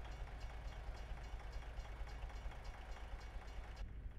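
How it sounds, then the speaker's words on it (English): A train rolls away in the American Truck Simulator video game, a steady low rumble with a faint repeating clatter that holds for about four seconds before thinning out at the end. "The train is leaving."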